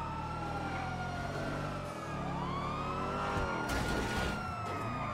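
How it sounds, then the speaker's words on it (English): Police trooper car sirens wail in GTA 5 during a chase, rising and falling in long sweeping tones over a steady engine rumble, loud and continuous with no talk. "We got two trooper cars chasing us."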